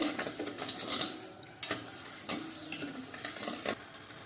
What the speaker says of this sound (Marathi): आता पाकाला उकळी आलेली आहे